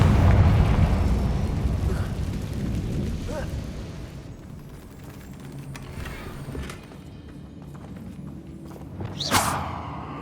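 A Confringo blasting spell explodes in Hogwarts Legacy near a damaged bridge, a loud rumbling blast that decays over several seconds, followed by quieter debris and a sharp whooshing burst near the end.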